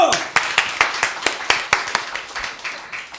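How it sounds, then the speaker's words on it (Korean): A congregation at a church service gives a short burst of sharp, loud claps repeating at a steady rhythm, slowing and fading slightly toward the end. "박수"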